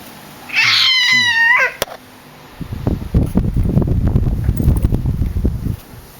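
A kitten gives a quick run of high, close meows lasting about a second, then broadband rustling and wind-like noise follows.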